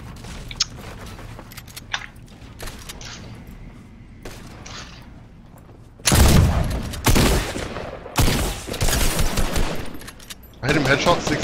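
Video game gunfire in a shooter match with a Shadow Bomb, first as scattered distant shots, then loud close bursts of rapid automatic fire in several volleys, with quiet voices between.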